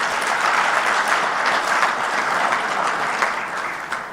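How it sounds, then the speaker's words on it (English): Audience applause fills the hall at the launch of the African Peer Review Mechanism, a steady dense clapping that holds loud throughout and fades slightly toward the end, with no talk over it. "Please give him a round of applause."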